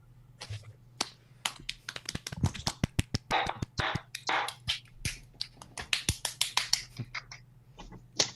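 Scattered claps and snaps from online meeting participants, picked up by separate microphones, come through as many sharp, uneven hits, some in quick bursts and others spread apart, fairly faint over a low hum, with no talk.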